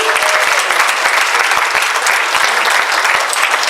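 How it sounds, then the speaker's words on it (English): Loud, dense applause from a gala audience at the NAACP Freedom Fund event honoring the 2018 nominees, an unbroken roar of many hands clapping close by, with no speech over it. "Please give a round of applause to the 2018 nominees"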